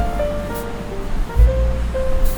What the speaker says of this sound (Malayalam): ഈ വെള്ളം തെറിച്ച് വെള്ളച്ചാട്ടത്തിനടുത്തേക്ക് മുഴുവൻ ഇങ്ങനെ തെറിക്കുന്നുണ്ട്